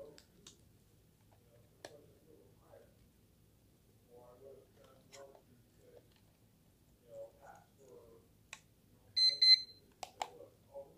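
A repaired analog alarm clock with a digital snooze feature gives a brief burst of electronic beeping near the end, following quiet clicks and ticks of handling, with faint talk in the background.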